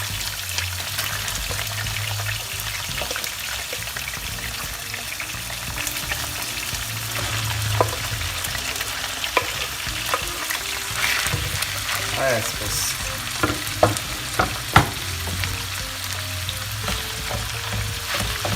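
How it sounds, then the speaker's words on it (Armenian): Carrots and onions fry together in a pan over medium heat for a chicken and rice pilaf, a loud close continuous sizzle with occasional clicks of stirring, and a voice speaks briefly. "Տապակում ենք արդեն իրար հետ, միջին կրակի ներքո"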